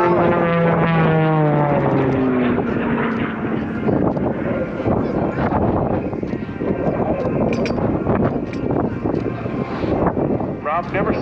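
Rob Holland's specially designed 385-horsepower aerobatic airplane performs at an air show, its engine droning loud and continuous, falling in pitch early on, under wind noise and a steady announcer's voice.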